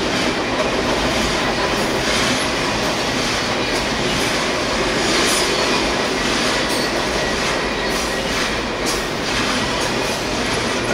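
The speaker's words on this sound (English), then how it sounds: "Train's been going on for 2 minutes since I first spotted it." A long freight train rolls steadily past close by, a continuous loud rumble of railcars with clickety-clack of wheels and occasional squealing throughout.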